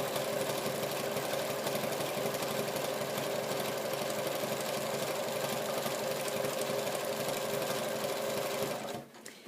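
Sewing machine zigzag stitching fabric strips for a tote, a fast, steady mechanical whirr running close and continuous, then stopping abruptly near the end.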